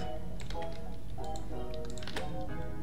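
Rapid, close computer keyboard typing while editing a product title for a mousepad listing, with irregular clicky keystrokes in bursts over a steady background hum.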